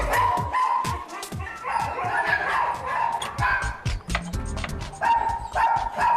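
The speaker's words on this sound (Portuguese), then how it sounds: "Olha, eles estão latindo." Several dogs bark and yip in quick irregular bursts, close and loud, with some short whimpers between barks and no talk.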